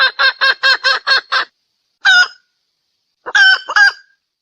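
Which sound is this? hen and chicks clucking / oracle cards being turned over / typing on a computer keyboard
hen and chicks clucking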